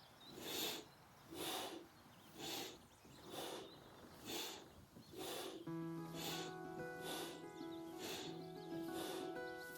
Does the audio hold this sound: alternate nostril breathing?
yes